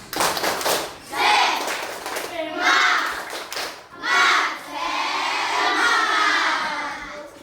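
A group of schoolchildren shout and clap together in bursts, a lively rhythmic classroom clapping chant with short pauses between loud phrases.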